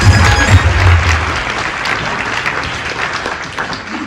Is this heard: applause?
yes